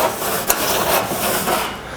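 A rag rubs briskly over rusted, pitted outdoor stainless steel, giving a steady, close scrubbing swish with a small knock partway through, with no talk.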